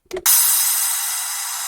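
A simple impact effect from a progressive house production: a short low thump followed by a burst of bright noise that decays slowly, heard alone.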